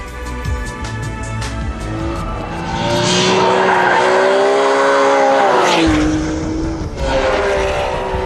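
A powerful 612-horsepower V12 engine of a Ferrari 599 GTB Fiorano revs and roars close by, its pitch climbing and falling through gear changes, loud and sustained.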